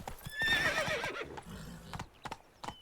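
Roach, a horse in The Witcher 3, whinnies loudly near the start, then hooves clip-clop in an uneven trot that fades to scattered steps.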